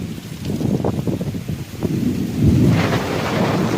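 Thunder rumbles low and heavy during a light rain shower, with wind buffeting the microphone and the rumble swelling toward the end.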